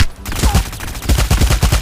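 Rapid gunfire from jump shooting in the Omega Legends video game rattles out in loud, close bursts of evenly spaced shots, nearly continuous, with no talking.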